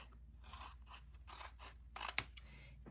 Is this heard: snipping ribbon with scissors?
yes